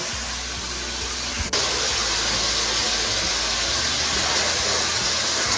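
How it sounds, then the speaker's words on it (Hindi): Goat meat fries in a pot. A quieter simmer suddenly jumps into a loud, dense hiss and sizzle that holds steady to the end, with no talking over it. "गोश्त को अच्छे से फ्राई करेंगे ताकि स्मेल ना आए"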